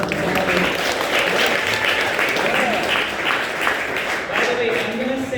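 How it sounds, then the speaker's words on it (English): Steady, dense applause from an audience at a live-streamed tech talk, loud and sustained throughout, with voices and cheers mixed into the crowd noise. "Again, a huge round of applause."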